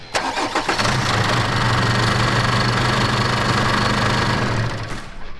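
A vehicle fitted with a DPCHIP tuning chip cranks and fires up, then settles into a loud, steady, close-up engine idle with a constant hum that fades slightly at the end.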